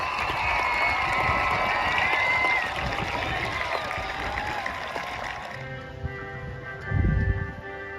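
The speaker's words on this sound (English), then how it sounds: "giving a round of applause" An audience at a school district Veterans Day celebration gives a few seconds of steady clapping that fades into a quieter room with a soft thump near the end.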